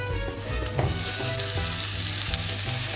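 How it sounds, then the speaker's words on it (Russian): Onion and carrot fry in a dry, very hot pan with no oil, giving a dense, continuous sizzle and crackle that stays loud and even throughout, with no voices. "Начинаем обжаривать лук и морковку."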